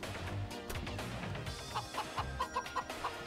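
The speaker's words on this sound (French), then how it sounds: "On a une poule qui nous course." A chicken in the Moving Out video game clucks in a quick series of short, evenly spaced clucks over light game music and background sounds.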